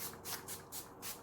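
A few quiet hissing spritzes of Essence watermelon face mist, pumped in short bursts with soft rubbing between, close and faint.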